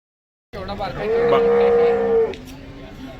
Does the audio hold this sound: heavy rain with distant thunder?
no